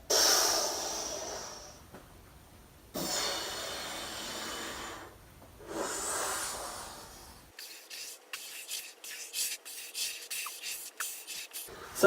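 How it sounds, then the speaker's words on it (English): Controlled breathing during slow push-ups: long, audible breaths in and out, close and fairly loud, in a slow rhythm of about three breaths, followed by lighter rubbing and scraping movement sounds. "Just controlled breathing is the key here on these."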